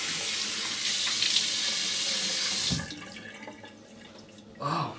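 Tap water runs steadily into a sink for a rinse after shaving, a continuous close splashing hiss that cuts off near the three-second mark, leaving quieter drips and a brief splash at the end.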